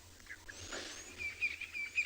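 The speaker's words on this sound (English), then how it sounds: "There's our white-crested helmet shrikes." White-crested helmet shrikes calling on a morning safari in the Tswalu reserve, with short chirps and sharp whistled notes close by, several birds trading calls in quick bursts with no talk.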